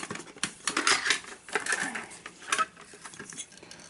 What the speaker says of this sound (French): je peux avoir 2 casseroles